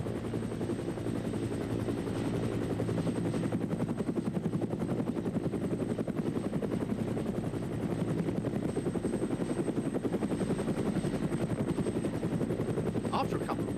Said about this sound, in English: the increased use of police helicopters